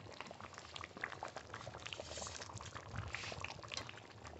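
Mutton kosha, a Bengali spiced goat curry, bubbles in a pot with a constant soft boiling gurgle and faint pops. The sound is quiet and even throughout.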